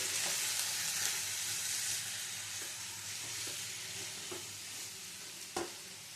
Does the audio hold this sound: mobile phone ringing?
no